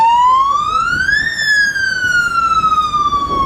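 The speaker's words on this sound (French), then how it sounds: "Sirènes et mots d'ordre d'évacuer les lieux résonnaient sur la plage de Flic-en-Flac" Police siren wailing on the beach at Flic-en-Flac, a loud electronic tone sweeping upward then slowly falling, close and continuous with no talk.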